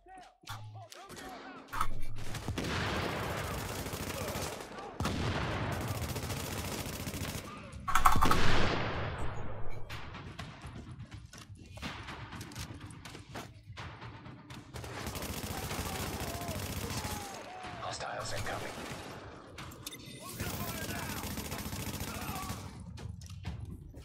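Shotgun fire in The Division sounds as loud, heavy blasts in bursts and rapid volleys throughout, with the echoing gunfire of a firefight.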